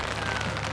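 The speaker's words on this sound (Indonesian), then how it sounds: "kita syuting hujan-hujanan, Bang Bewok, Abang Arga nih" Rain falling outside a small Japanese-style two-storey house, a faint, even hiss of drops with no voices over it.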